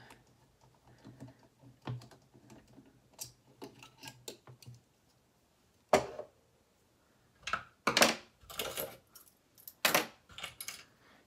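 Small plastic and metal clicks and snaps, scattered and close, then a few sharper clacks as a walking foot is detached and a zipper foot fitted on a sewing machine.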